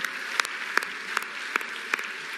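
Audience at the CAF Awards 2025 football ceremony clapping for the people of Morocco, a steady spread of hand claps with a few sharper peaks, moderately near and without talk.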